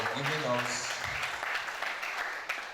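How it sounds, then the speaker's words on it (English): Applause for the registrar at a Nigerian polytechnic staff workshop: scattered audience clapping rises under and after a speaking voice, moderately loud and close. "Please, a round of applause for her"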